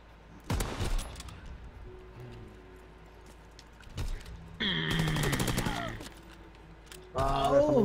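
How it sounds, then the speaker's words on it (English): Mechanical clicks and clacks of a sniper rifle being loaded in a video game, in separate bursts with sharp sounds between them, near and moderately loud, with talking in places. "I need to load my weapon"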